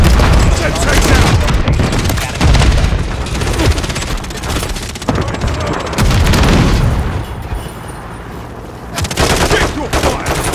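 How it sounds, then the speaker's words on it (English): A Semtex grenade detonates amid heavy gunfire on the small Shipment map in Modern Warfare III, loud booms and rapid automatic fire crowding together while voices call out over it. "Throwing Semtex!"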